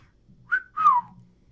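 A person whistles two short rising-and-falling notes, close and fairly clear, against quiet background hum.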